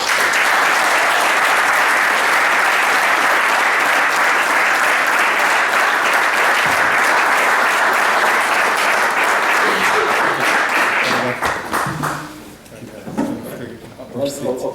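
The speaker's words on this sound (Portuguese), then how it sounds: "Vossos aplausos para o Tiago Marco." A crowd at an athletics awards festival applauds a Fátima athletics club heptathlon and decathlon athlete, sustained loud clapping that breaks off near the end as a voice speaks over the dying claps.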